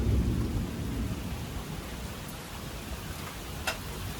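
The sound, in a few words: heavy rainfall and thunder during a storm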